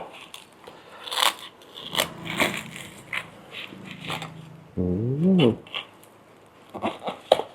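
Several crisp, crackly crunches of crispy fried pork belly being bitten and chewed up close, with brief bursts of speech between bites.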